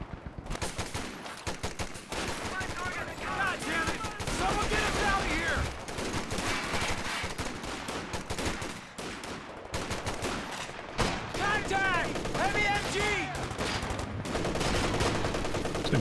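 Machine gun fire in Company of Heroes 2 rattles in long, dense bursts with scattered rifle shots, while a commentator talks over the battle.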